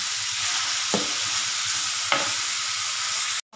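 Papaya vegetables frying in a pan with a steady close sizzle, two sharp scrapes of a spoon stirring through them, then a sudden cut to silence at the end.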